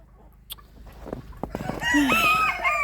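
Escaped farm hens cluck loudly and close by in snowy weather, a few sharp calls at first building into a busy, overlapping run of clucking.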